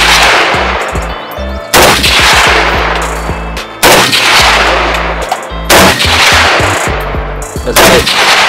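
AK-47 rifle fire at outdoor target practice at 150 yards: four very loud, close single shots roughly two seconds apart, each a sharp crack trailing into a long ringing decay.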